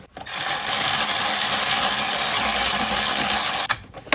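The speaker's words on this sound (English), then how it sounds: "And now I'm going to tighten the bolts for the starter motor." A power tool tightening the starter motor bolts on a Hyundai Tucson, one loud continuous whirring burst lasting several seconds and stopping abruptly, close by with no talk.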